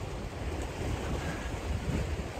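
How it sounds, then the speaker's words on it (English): Big waves on a Michigan lake during an open water swim in late September, a steady close roar of churning water and wind buffeting the microphone. "the waves are pretty big"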